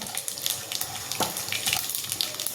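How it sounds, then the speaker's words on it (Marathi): Mustard seeds and cumin crackle in hot oil in a pan, a close run of irregular sharp pops and spatters over a wet sizzling hiss. "आवाज येतोय, मोहरी फुटते."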